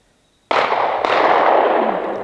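A single loud gunshot from a pistol fired at night on a Navajo ranch, sharp onset followed by a long rolling echo that decays slowly across open ground.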